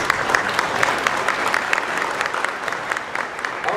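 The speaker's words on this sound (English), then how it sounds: "I think that should get for a nice round of applause" Steady audience applause fills a hall at a county sports hall of fame induction, dense and even clapping at moderate loudness with no voices on top.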